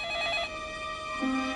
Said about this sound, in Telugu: ముందు ఫోన్ చూడు